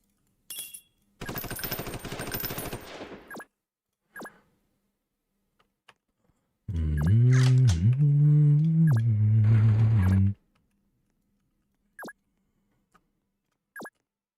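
Machine gun fire in the Roblox combat game Noobs in Combat comes as a loud, dense burst lasting about two seconds, followed by a few isolated single shots and a longer tonal in-game sound.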